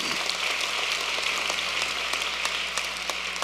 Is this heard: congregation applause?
yes